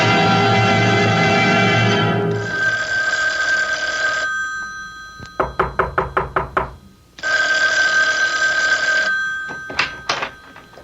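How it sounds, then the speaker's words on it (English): A telephone bell rings in an old radio mystery drama, sounding in two long shrill bursts. Each burst is followed by a quick series of sharp knocks on a door. No one speaks. "Isn't that your phone I hear ringing?"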